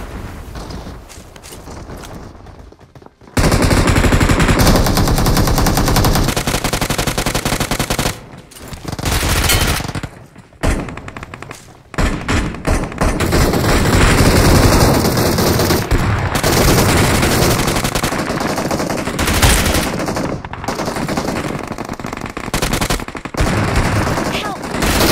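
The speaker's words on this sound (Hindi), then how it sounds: "इतने सारे गन साउंड आ रहे हैं ना भाई" Dense gunfire in the mobile shooter's Skyhigh Spectacle mode, with loud rapid automatic bursts and overlapping shots that run nearly nonstop, broken by a few short gaps, while a voice talks at times.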